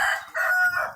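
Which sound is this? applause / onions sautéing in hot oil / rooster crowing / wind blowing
rooster crowing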